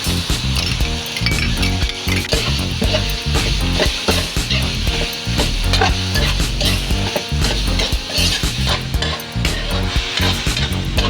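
Bagoong alamang shrimp paste sizzles with tomatoes in a pan for pinakbet, a steady loud frying hiss with frequent metal spatula clinks and stirring scrapes up close.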